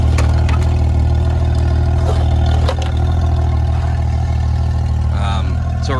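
A 1994 Honda GL1500 Gold Wing motorcycle engine, freshly fitted with a new fuel pump, idles steadily as it warms up: a loud, even low drone with a few light clicks and clatters on top.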